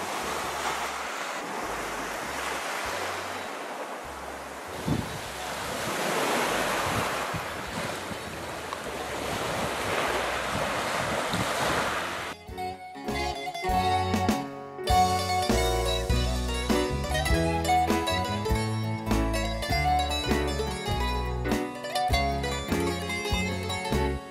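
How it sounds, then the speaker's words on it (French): Waves and gusty wind on Gallia beach, just north of Andros on a Greek island, roar steadily and loudly for about half the time before music abruptly takes over. "Juste au nord d'Andros, la magnifique plage de Gallia."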